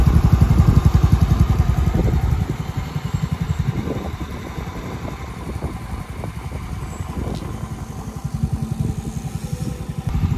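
Mio i 125 motorcycle fitted with an MT8 racing exhaust pipe idling nearby, a steady rapid low putter with a slight dip in level partway through, moderately loud and alone.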